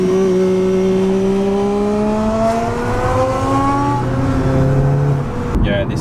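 A car's 2-liter turbocharged four-cylinder engine pulls hard from close by, revs climbing steadily through several gear changes with a brief drop between each, then cutting off abruptly.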